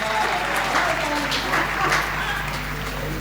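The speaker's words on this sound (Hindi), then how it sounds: "बजाओ ताली भाई।" Audience clapping at a Hindi poetry gathering, a short burst of steady applause with crowd murmur and some voices underneath.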